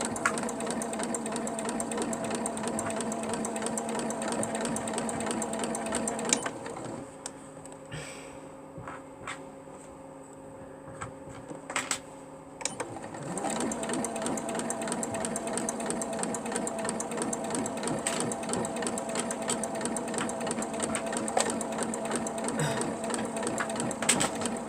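A sewing machine runs steadily, stitching a double wedding band quilt, its fast even needle clatter and motor hum carrying on for a long stretch, with a brief pause in the middle before it resumes.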